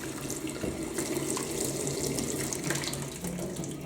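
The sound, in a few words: descaler water poured down kitchen sink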